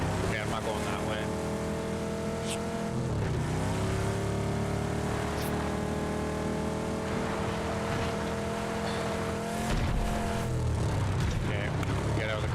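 A car in a video game, PUBG or Arc Raiders, drives along with a steady engine drone that shifts pitch through gear changes and revving, loud and continuous, with a player talking over it.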